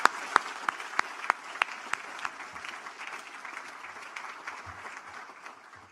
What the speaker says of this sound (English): Please join me in another round of applause for them.